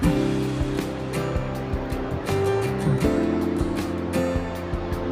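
Rushing water at Khone Phapheng waterfall on the Mekong in southern Laos, a steady broad roar throughout with low rumbling and surges, heard from nearby without speech.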